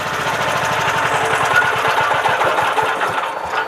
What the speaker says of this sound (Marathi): पॉवर बँक वरती मशीन स्टार्ट होऊन जाते